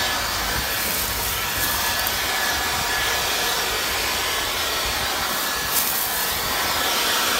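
Black+Decker 20V MAX cordless sweeper blowing acorns off pavement outdoors, a loud continuous airy whoosh held steady throughout, close to the listener, with no talking.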